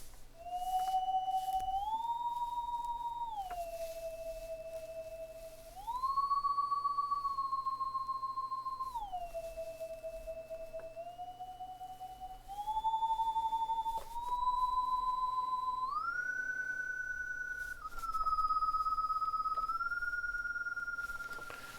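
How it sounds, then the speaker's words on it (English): Theremin software instrument in Reason 12 plays a loud, pure, eerie tone that glides and slides between held pitches, stepping up and down over about twenty seconds, alone with no other sounds. "This is the Theremin, and it sounds like this"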